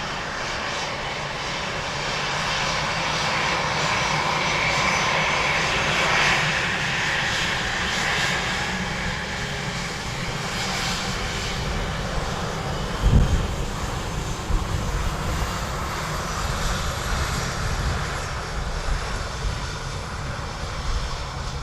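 An aircraft arriving at Dublin Airport, its engines giving a steady, broad roar that holds loud and continuous, with light wind noise and a brief thump midway, no talking.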